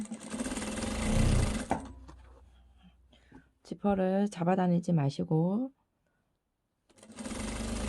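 A sewing machine runs in close bursts while stitching a hidden zipper onto a dress, its whirring stopping for a woman's spoken instructions in between and starting again at the end.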